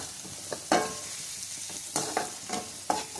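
Onion and tomato sizzle in a pan while a spoon stirs them, giving several distinct scraping knocks over a constant close frying hiss.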